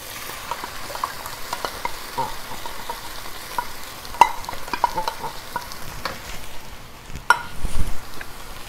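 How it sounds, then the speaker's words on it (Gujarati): Finely cut potatoes sauté in a pan for a potato curry, giving a soft, steady sizzle. Intermittent clicks of stirring and spoon taps sound over it, growing a little busier near the end, with no talking. "તમે જોશો કે આપણું ફાઇન તે બટેટા એટલા ફાઇન તે સોંતરાઈ ગયા છે."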